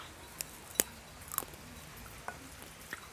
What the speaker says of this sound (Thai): แม่ทอดให้นะคะเรามากินแผ่นเล็กก่อนดีกว่า